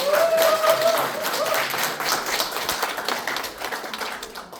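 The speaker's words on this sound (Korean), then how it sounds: "큰 박수 부탁드립니다" Applause from an audience at a political party event in Cheongju rises loudly at first, a dense patter of many hands clapping, then gradually thins out, with a brief whistle-like tone early on.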